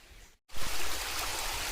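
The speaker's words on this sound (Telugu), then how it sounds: "ఇది వాటర్ ఫాల్స్ పై భాగంలో మనము చాలా దగ్గరలో ఉన్నాం" Dense, steady rush of falling water close by at the top of Sunnapugadda Waterfalls, loud and continuous after a brief silent gap at the start.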